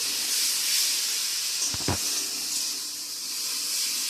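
Potatoes and pointed gourd dropped into hot curry masala in a pan, a loud steady sizzle and hiss with a brief crackle as the vegetables land.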